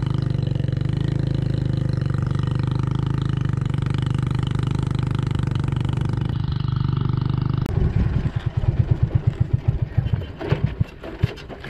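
Motorcycle engine on a roadside in Cambodia, a steady loud droning rumble that shifts to a rougher, sputtering, uneven idle near the end, with no voices over it.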